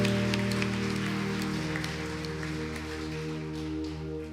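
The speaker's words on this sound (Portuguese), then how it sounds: "Quer aplaudir a Jesus?" A congregation applauding at the close of a church service, scattered clapping over a sustained organ or keyboard chord, fairly faint and steady.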